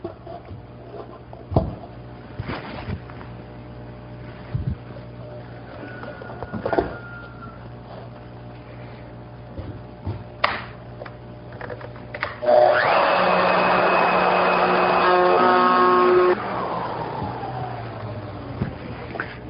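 A router fitted with a CMT bowl bit hollows out a wooden bowl. After scattered knocks and bumps, it breaks into a loud, steady, high cutting whine for about four seconds, then eases into a fading spin-down.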